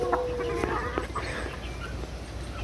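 Hens cluck in a poultry pen. A few short, sharp calls come near the start, then fade into softer background farmyard noise.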